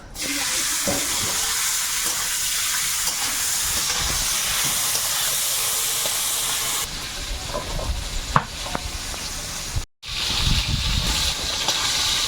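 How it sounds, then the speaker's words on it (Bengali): Fish frying in hot oil gives a loud continuous hiss and sizzle with occasional spatters, then a short cut to a lower, rougher crackle. "তারপরে মাছগুলো ভেজে নেব"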